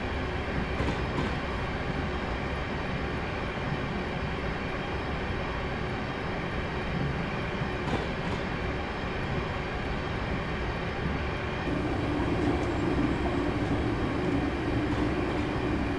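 A passenger train cruising at speed in the Train Simulator Classic game on the Glasgow to Dunblane and Alloa route gives a steady, moderately quiet rumble and rail roar that continues without a break, with no talk.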